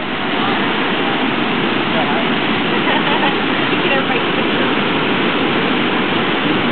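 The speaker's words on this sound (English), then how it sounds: "We've got our own little waterfall back here." Floodwater pours steadily like a waterfall in a backyard during a 2009 flood in Acworth, Georgia, a loud, continuous dense roar of rushing water close by.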